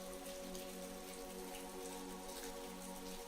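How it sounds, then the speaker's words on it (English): Rain patters steadily outside a cozy cottage on a rainy evening, a soft continuous hiss of raindrops, faint and even, beneath a low sustained tonal hum with no voices. "their thoughts drifting and mingling with the sound of raindrops outside"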